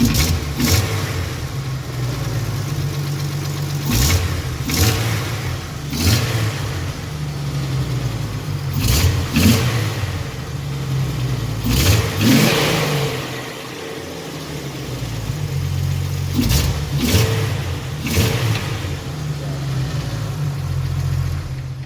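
A Jeep TJ engine idles steadily up close, its low drone broken by periodic revs and a light, regular ticking tap underneath.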